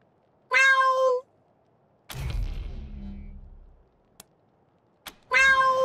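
Cat in the video game Wasteland 3 giving two clear, close meows at the start and end, with a low rumbling blast and a couple of sharp clicks in between.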